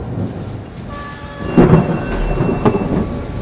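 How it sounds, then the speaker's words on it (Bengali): Rain and thunder sound effect in a Bengali audio story at a night railway station: a low rolling rumble swells and fades over a faint steady hiss, with thin high tones lingering throughout. "বৃষ্টির ক্লান্তি নেই।"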